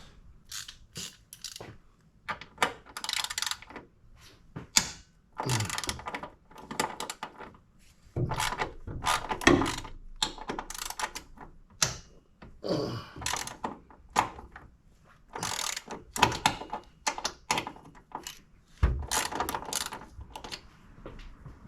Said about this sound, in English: now we need to remove this bar by undoing these 2 bolts here and 2 on the other side